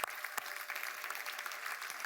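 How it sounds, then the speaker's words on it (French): A church congregation claps during a worship service, a close, busy patter of many hands with a few sharper claps, continuous for the whole short stretch. "on peut applaudir Jésus"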